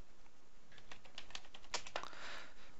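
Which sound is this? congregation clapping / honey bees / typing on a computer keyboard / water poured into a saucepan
typing on a computer keyboard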